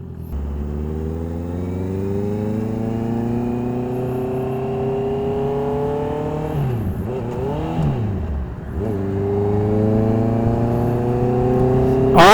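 A Honda CBR650R motorcycle accelerates hard, its rising whine climbing through the gears with brief dips at each shift, loud and close with wind rush, heading toward a freeway.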